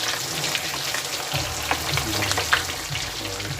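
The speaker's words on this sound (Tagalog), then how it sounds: "mainit-init na yung mantika natin. So dapat deep fry siya." Chicken fillet deep frying in hot oil gives off a steady, close crackling sizzle with small irregular pops throughout.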